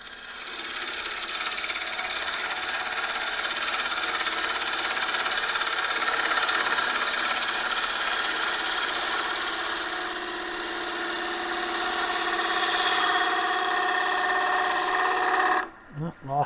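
A lathe gouge shaves a myrtle wood bowl in a long, steady, smooth cut, a bright whirring hiss over the motor hum that stops abruptly at the end with a couple of brief thumps.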